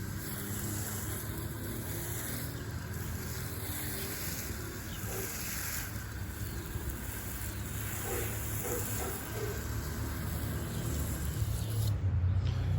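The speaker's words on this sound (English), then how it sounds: "And then we'll water this one." A steady, broad hiss of water spraying over a newly planted bean garden runs throughout, fairly close and continuous with no talking.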